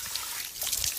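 Water runs from a tap at a school in a thin, steady trickle, close by and moderately loud, with a slightly splashy flow.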